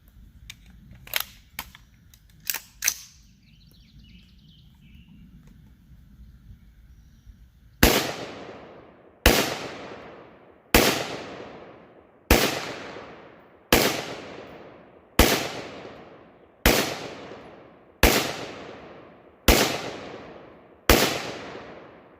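Ten rifle shots from a Bear Creek Arsenal 5.56 NATO rifle with a 16-inch upper firing PMC X-Tac ammunition at an outdoor range, loud sharp cracks at an even pace of about one and a half seconds, after a few fainter distant shots.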